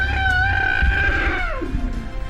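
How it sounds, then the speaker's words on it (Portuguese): A young elephant squeals during a lioness attack: a shrill, high, wavering cry lasts about two seconds and bends downward near the end, with rough background noise. "as pessoas ouvem o guincho de uma jovem elefanta"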